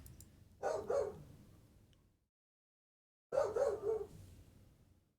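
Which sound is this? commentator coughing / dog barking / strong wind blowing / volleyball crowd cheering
dog barking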